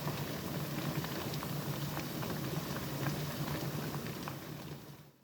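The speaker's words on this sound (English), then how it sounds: "We're going to cover this pot, wait till it comes to a rolling boil" A covered pot of water holding jars of fig jam at a steady rolling boil, with dense continuous bubbling and crackle that holds even throughout and trails off at the very end.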